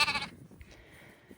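A sheep on a farm gives a single short, fairly close bleat, which is followed by quiet farmyard ambience.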